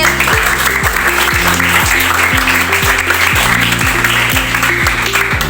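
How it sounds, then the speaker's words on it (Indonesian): A classroom of students claps for a classmate named Devi. The clapping is dense and even over a loud, repeating tune of stepped tones that runs through the whole stretch. "Tepuk tangan buat Devi."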